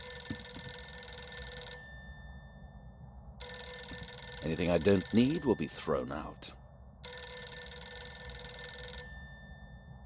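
An in-game telephone in the 2010 PC game Alter Ego rings in repeated long electronic bursts with gaps between, while someone talks over the middle ring.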